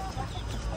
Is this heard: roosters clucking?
yes